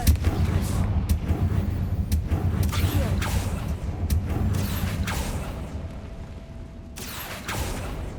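Confringo fire spells cast in the Hogwarts Legacy video game, a dense run of booming blasts and rumbling impacts layered over continuous combat noise.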